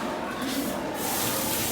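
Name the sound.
aerosol spray being sprayed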